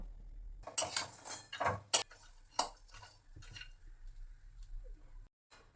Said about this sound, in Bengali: তো এগুলো আমি শুকনো খোলায় জাস্ট একটু হালকা করে ভেজে নেব।